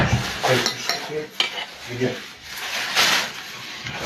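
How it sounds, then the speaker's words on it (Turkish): Dishes and cutlery clink and clatter close by as someone washes up in a home kitchen, with irregular knocks and scrapes running beneath a person talking. "Ben buradayım şu bulaşıkları bir tamamlayayım da."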